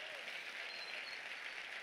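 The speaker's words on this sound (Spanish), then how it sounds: "Dale otro aplauso al Rey bendito" Applause from a church congregation during a worship service, a steady dense patter of many hands sustained throughout at moderate distance, with no voices over it.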